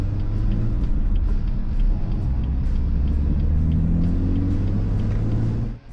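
BMW M3 engine running steadily as the car drives, a loud continuous low rumble with a deep droning exhaust note, stock exhaust with downpipes, holding fairly even before cutting off at the very end.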